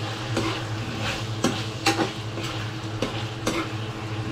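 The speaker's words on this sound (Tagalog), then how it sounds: "Sumasagitsik na." Oil sizzles steadily in a frying pan, a continuous crackling hiss close by, broken by a few sharp stirring scrapes and clicks; no one speaks.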